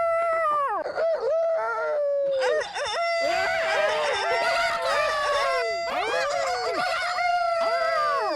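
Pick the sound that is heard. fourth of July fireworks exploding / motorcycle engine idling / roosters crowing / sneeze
roosters crowing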